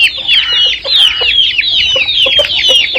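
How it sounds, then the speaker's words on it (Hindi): Aseel chickens, a hen with her chicks, cluck and chirp continuously at close range in a loud, busy chorus with no talking. "वो मेरी बेगम मादी ते उसदे चूजे चैंपियन ब्रूसली मुर्गे दे बच्चे ने"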